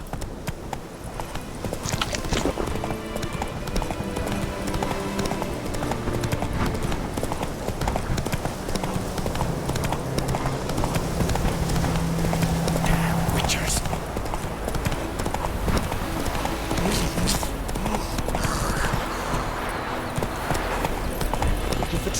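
Horse hooves clip-clop at a steady gallop rhythm in The Witcher 3 video game, loud and continuous throughout, with a faint whispery voice and occasional soft whinny mixed in.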